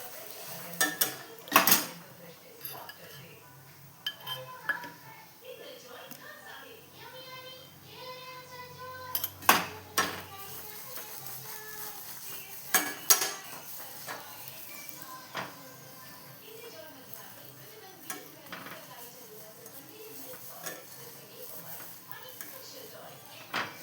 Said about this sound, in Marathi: पुन्हा एकदा पलटी घेतलेला आहे आणि इथे पण आपण तूप लावून घेणार आहोत